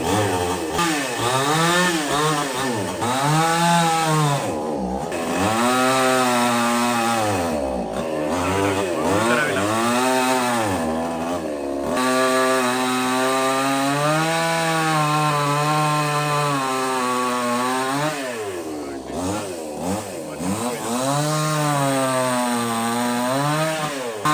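A chainsaw roars close by, its engine rising and falling as it bites into a large fallen tree, with a few brief drops in revs between cuts.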